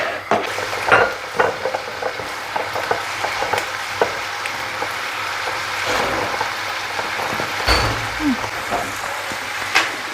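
Eggs frying in a pan give a steady crackling sizzle with scattered pops and a few louder spits, continuous throughout at close range.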